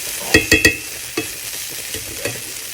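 Bitter gourd frying in a pan, a low steady sizzle broken by a quick run of three sharp scrapes of a spatula, then a few softer scattered stirs, close and clear.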